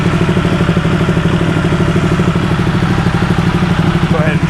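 A Ducati Panigale motorcycle engine, warmed up to operating temperature, idles steadily and loudly up close with a continuous throbbing, uneven burble and no break.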